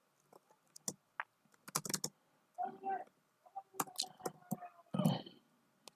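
Quick bursts of typing on a small laptop keyboard, irregular key clicks and clusters of keystrokes with short pauses, close and fairly quiet.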